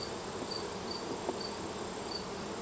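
Honey bees at a hive, a continuous soft buzzing drone with faint, evenly spaced high chirping pulses over it, steady and not loud.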